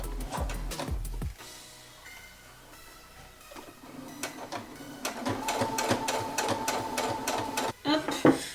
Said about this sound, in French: Et donc là j'ai fait la petite surpiqûre.